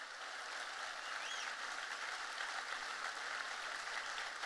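A church congregation applauds during a service, a faint, even wash of many hands clapping heard from a distance without talk over it.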